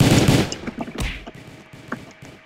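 Gunfire in the Ball Blast mobile game comes as a rapid burst of loud shots, then scattered repeated pops.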